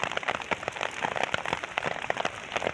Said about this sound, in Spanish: Es granizo.